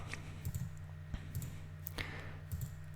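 Computer mouse clicking, a handful of quick, close clicks at irregular intervals in a quiet room, some coming in rapid pairs.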